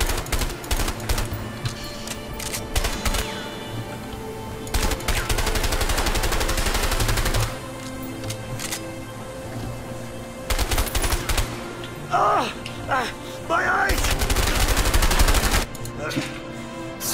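Bursts of automatic gunfire in the video game A Way Out come in several loud, rapid volleys separated by brief pauses, with game sounds and occasional voices between them.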